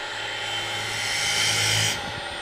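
A freshly sharpened spindle gouge cuts wood on a spinning lathe, giving a steady, loud whirring hiss that swells slightly and then cuts off as the tool lifts away.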